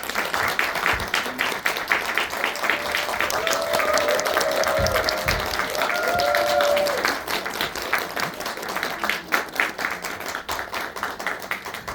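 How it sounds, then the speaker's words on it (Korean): A cinema audience at a Korean film screening with the director and lead actors gives sustained applause, many hands clapping densely at a fairly constant level, with brief whistle-like tones and crowd murmur mixed in before the clapping thins slightly toward the end. "큰 박수 좀 많이 주시죠."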